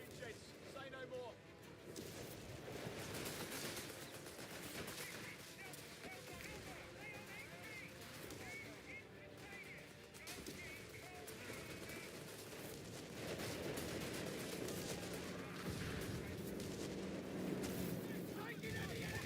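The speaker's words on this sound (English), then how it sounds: "Artillery barrage on the way." Artillery barrage in the real-time strategy game Company of Heroes 3, a dense continuous rumble of distant shell fire and explosions with overlapping gunfire, steady and loud throughout, under occasional voices.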